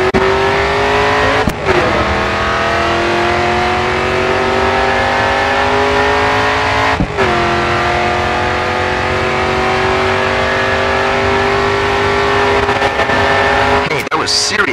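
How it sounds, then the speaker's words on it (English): A race car in the racing game Grid 2 roars at full throttle, loud and continuous, with the engine pitch climbing and then dropping sharply at each gear shift. "full throttle now, coming onto the final straight."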